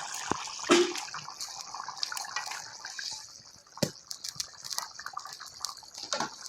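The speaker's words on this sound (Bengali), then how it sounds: "আমার মাছের ঝোল ফুটে গেছে।" Katla fish curry simmering in a pan, a close, soft bubbling with scattered pops and drips and a couple of sharper clinks, no speech.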